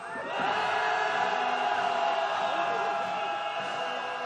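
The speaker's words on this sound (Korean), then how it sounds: "윤석열 탄핵을 위한 함성 시작" A protest crowd on a candlelight march in Hongdae raises a sustained collective roar, many voices shouting together loudly and steadily for several seconds.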